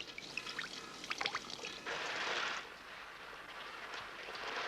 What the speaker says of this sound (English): fed by a constant trickle of liquid nutrients